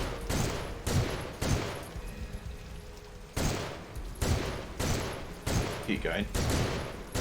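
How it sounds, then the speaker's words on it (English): Repeated bursts of gunfire in the gory shooter Soldier of Fortune II: Double Helix, several loud volleys spaced a second or two apart with a short spoken remark between shots. "Shoot his head a couple times."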